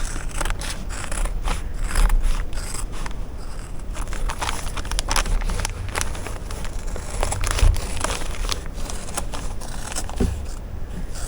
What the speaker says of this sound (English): I'm going to get my good scissors. Now we're going to cut this out.